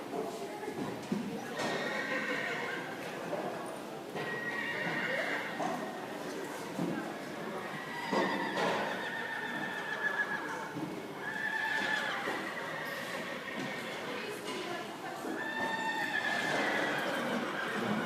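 Horses at a rodeo grand entry in an arena whinny several times over a continuous clip-clop of hooves while a voice talks throughout.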